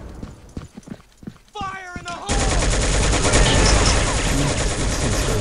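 Loud, dense rifle and machine-gun fire erupts in the shooter Soldier of Fortune 2 during a multiplayer flag match, a sustained close barrage following a few quieter shots and a voice.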